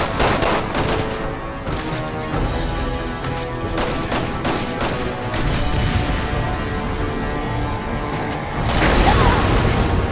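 Explosions and gunfire from the Resident Evil 6 video game fill the scene with loud, dense bursts of shots and booming blasts, nearly continuous, swelling into a heavier roar near the end.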